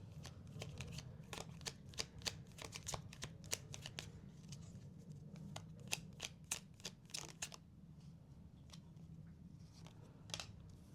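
Tarot cards are shuffled by hand, close and quiet, in a continuous run of crisp riffling flicks that slows briefly toward the end.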